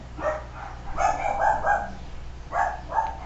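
Pet dogs barking at home, several loud close yaps in two quick bursts with a brief pause between them.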